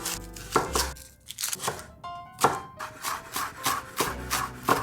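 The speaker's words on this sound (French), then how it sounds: "On va pouvoir couper quelques échalotes." A knife chops shallots on a cutting board in a kitchen, producing a series of sharp, close taps in an uneven rhythm with brief pauses.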